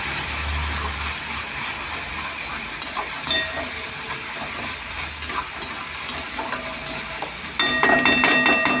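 Sliced onion frying with ginger garlic paste gives a loud, continuous hiss of hot oil, with scattered light scrapes and taps from stirring that grow busier and brighter toward the end.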